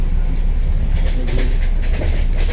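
A fast train in Uzbekistan heading to Samarkand rumbles steadily along the tracks with a continuous low roar and faint rhythmic clatter, close and loud, with no voices.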